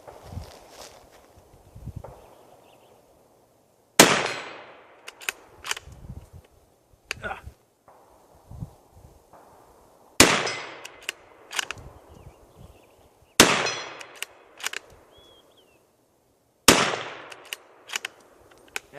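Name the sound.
Ruger American Ranch 300 Blackout rifle firing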